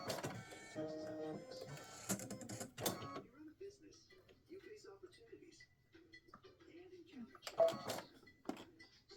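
An embroidery machine stitches the binding of a hot pad in quick mechanical bursts during the first few seconds, followed by quieter handling sounds and soft clicks, with a voice speaking intermittently.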